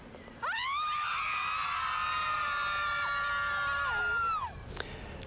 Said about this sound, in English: They gathered last week for a collective mom scream